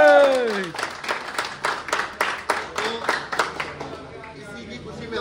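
A small group claps for a gym's sixth anniversary celebration, a short burst of quick, uneven clapping under a voice at the start, thinning out toward the end.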